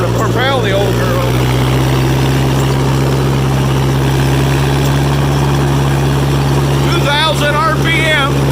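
A John Deere 1010 bulldozer's engine runs steadily in fourth gear with a loud, constant low drone, while someone talks briefly at the start and near the end.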